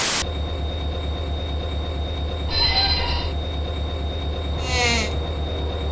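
A train runs on rails in the video game Rolling Line, with a steady low rumble of wheels throughout and two bursts of high metallic wheel squeal, loud and close.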